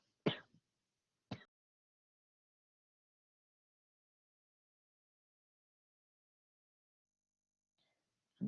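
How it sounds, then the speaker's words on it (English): Two short, sharp coughs close by, then silence, with another brief cough-like burst at the very end. "I'm sorry, I'm coughing a lot."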